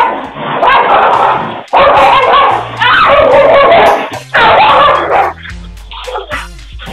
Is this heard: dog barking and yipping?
yes